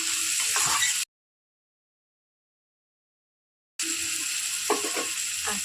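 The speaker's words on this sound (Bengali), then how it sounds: "শাপলাটা আমি ভালো করে এখন নাড়ানাড়ি করবো" Water lily stems (shapla) frying in a pan, a close hiss of sizzling with short stirring scrapes, cut off by a few seconds of silence before the frying and stirring resume.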